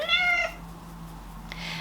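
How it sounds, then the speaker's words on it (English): A house cat gives a single clear, close meow at the start, then quiet room tone with a faint rustle near the end. "my cats are always going crazy and climbing all over everything"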